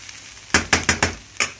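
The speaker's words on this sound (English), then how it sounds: "So it will fry for 1 minute" Food frying in a pan with little oil while mashed potatoes are made, giving a few short, sharp sizzling bursts in quick succession at close range.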